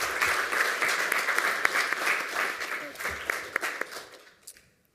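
Hall audience applauding a lightning talk at a hacker congress, steady dense clapping that holds for several seconds with a few sharp individual claps, then tapers off and fades to near silence at the end.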